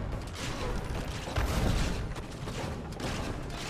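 Cannon fire in Assassin's Creed: Revelations booms amid a dense, continuous din of battle noise, with one heavier thump partway through and no clear pauses.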